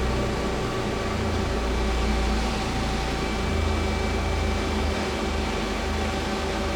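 X-axis travel on a new 2011 Feeler HT-30Y CNC turning center gives an even, continuous machine hum with a low rumble and thin tonal whine, close and unbroken, rising slightly in the low end partway through.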